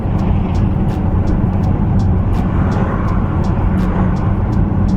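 An Audi Q7 4.2 V8 TDI cruises through town at 50 km/h, its engine and road noise forming a loud, steady cabin drone with faint regular ticks throughout and no talking.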